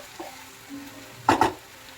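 Chopped tomato pieces being stirred in a pan for egg masala: a soft faint sizzle underneath, then two quick, louder stirring scrapes close together near the end.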